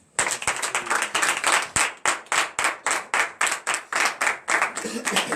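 A church congregation at a morning prayer service claps in a fast, steady rhythm to acclaim the Lord, loud, close and evenly spaced, with voices mixed in beneath the clapping.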